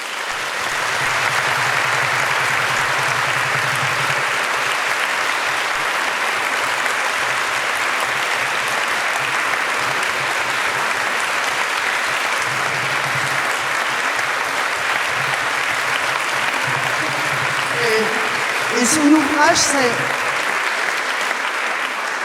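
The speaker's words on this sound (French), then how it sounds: "Allez-y, vous pouvez applaudir encore" Sustained applause fills a hall as an author receives a large cheque at the Clameur(s) 2026 crime-novel award ceremony. Near the end, a presenter's voice cuts in over the clapping.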